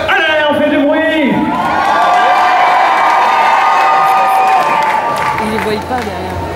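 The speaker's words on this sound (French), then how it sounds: "Et on lève les bras et on fait beaucoup de bruit si on veut." A crowd at a Paris manga convention reunion panel cheers and shouts loudly, sustained whoops and high voices of many people with some clapping, close and dense throughout.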